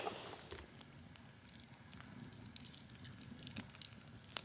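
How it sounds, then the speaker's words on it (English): An outdoor campfire on Giant Ledge in the Catskill Mountains burns softly with faint, scattered crackles and pops over a low steady hiss, heard alone with no talking. "we are sitting out around the campfire"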